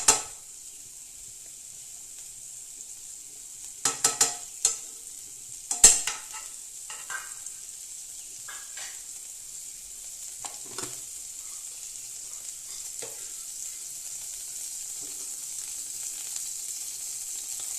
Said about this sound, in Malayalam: നമ്മൾ ഇതിലേക്ക് കുറച്ച് മുന്തിരിയാണ് വറുത്ത് ചേർക്കുന്നത്.